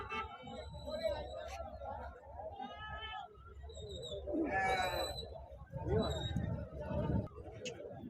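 Short goat bleats rise over a busy background of people talking at the Friday weekly market in Husnabad, Siddipet district, with one louder, wavering call in the middle.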